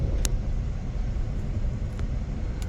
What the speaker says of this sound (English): And we're pulling into the station now.